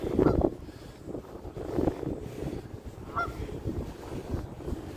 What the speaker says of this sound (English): Here, look at the geese here. How you doing there, geese?